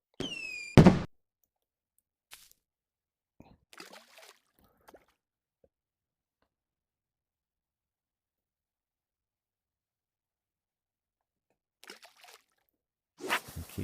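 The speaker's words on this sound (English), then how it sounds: "set off another firework." A quick whistling firework launch and pop in a video game at the start, then mostly quiet with a few faint taps, and a louder burst right at the end.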